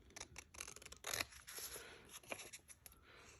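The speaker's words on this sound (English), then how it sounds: "I might use scissors just to save time." Scissors cutting through paper in a quick series of close snips and crisp crunching slices, with soft rustling of the page between cuts and no voices.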